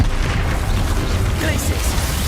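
A loud magical Bombarda blast booms in Hogwarts Legacy, a broad explosive burst with rumbling low end and crackling debris, followed by scattered pops and the muffled clatter of a spell-driven explosion.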